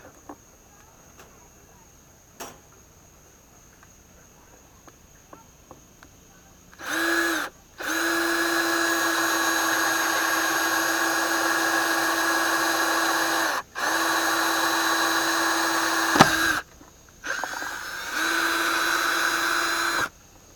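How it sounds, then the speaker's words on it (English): A power drill whines in long sustained runs, starting and stopping several times with brief pauses between, close and steady in pitch. "Alright, let's drill this one next."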